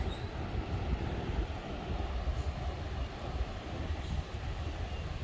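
A strong, continuous rushing roar of wind gusting through trees, steady and loud throughout with no voices.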